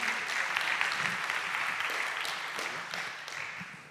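Audience at a workplace health and safety colloquium claps for guests joining the stage, a full, even burst of applause from many people that holds steady and then eases slightly toward the end.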